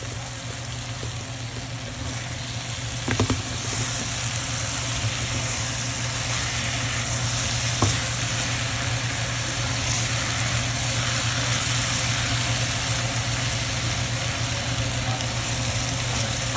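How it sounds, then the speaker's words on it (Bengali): Potatoes and bitter gourd fry in a pan with a steady, even sizzle that holds at one level throughout, broken by a couple of faint clicks. "এখন হাফ করলা ভাজার পরে আলুটা দিয়েছি।"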